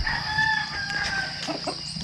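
A rooster crows loudly and steadily from fairly close by, with faint clucking of other fowl underneath and no talking.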